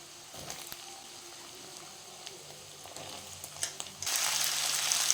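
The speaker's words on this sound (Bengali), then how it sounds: "প্রথমে কড়াতে আমি তিন পলা মতো সর্ষের তেল নিয়ে নিয়েছি পেঁয়াজ কুচি দিয়ে একটুখানি হালকা ভাজা হয়ে গেছে এবার দিয়ে দেওয়া হবে আলু" Potatoes added to a kadai of mustard oil with lightly fried chopped onion, a faint low sizzle at first with occasional soft clatters, then a sudden louder steady hiss as the frying picks up near the end; no talking.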